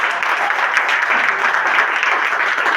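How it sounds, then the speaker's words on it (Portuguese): Church congregation clapping in welcome during a service, a loud, close, continuous patter of many hands that stays steady for the whole stretch without a break. "Quero que os irmãos dêem uma salva de palmas"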